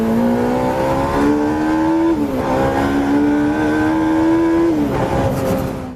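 A Jaguar CX-75 hybrid supercar's 1.6-litre four-cylinder engine, derived from an abandoned F1 project, revs hard and close, a loud rising howl that drops sharply and climbs again in two sustained pulls.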